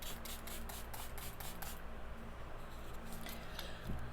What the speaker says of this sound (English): Now I'm going to spray the face with the Slay All Day setting spray